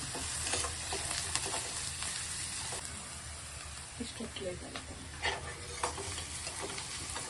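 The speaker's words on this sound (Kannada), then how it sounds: "ಈರುಳ್ಳಿ ಫ್ರೈ ಅಷ್ಟರಲ್ಲಿ ಏನಾದರೂ ಮಾತಾಡಿ" Onions frying in a pan give a faint, steady sizzle with a few soft stirring scrapes, heard at a distance under a low background hum.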